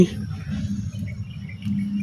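A swarm of honey bees from a clay hive buzzes in a low, continuous drone as the bees are gathered by hand into a box, with faint chirps mixed into the sound.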